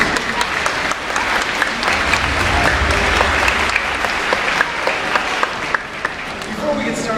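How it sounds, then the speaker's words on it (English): Audience at a Shedd Aquarium show in downtown Chicago breaks into loud, sustained applause, a dense wash of clapping with some crowd noise throughout. "please give a big round of applause"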